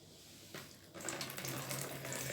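Brine draining from a container of green olives, a splashing pour that starts faint and then swells into a steady running-liquid sound, close by and without talk.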